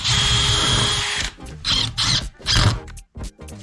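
A power drill drives a screw into a wooden shutter, a steady whine for about a second followed by several short bursts of the motor as the screw is set.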